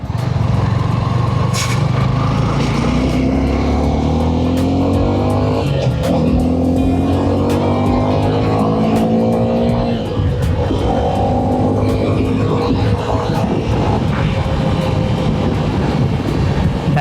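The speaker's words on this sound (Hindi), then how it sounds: "मतलब ऐसा नहीं है कि अभी बहुत ज़्यादा नॉइस कर रही है, एकदम मस्त आवाज़ है।" A Suzuki V-Strom 250 motorcycle engine drones under riding, with revs rising and falling through gear changes and steady wind rush, loud and close for the whole stretch.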